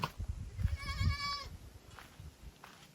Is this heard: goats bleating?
yes